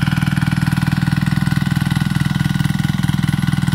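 A tractor engine chugs loudly and close while breaking up soil clods in a tomato field, with a fast, even pulsing throb that never lets up.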